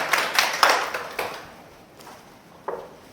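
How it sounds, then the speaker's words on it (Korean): An audience claps to welcome a speaker at a meditation society meeting, a short scattered burst of hands that quickly thins out into a few isolated claps. "박수로 맞아주시기 바랍니다"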